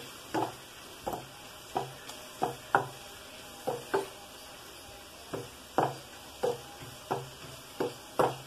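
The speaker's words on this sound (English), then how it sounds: "আমি প্রথমে তেজপাতা গরম মশলা ফোড়ন দিলাম" Bay leaf and garam masala tempering in hot oil for restaurant-style mixed fried rice, with a steady low sizzle broken by about a dozen sharp scraping stirs of a spatula against the pan, fairly close and evenly spaced.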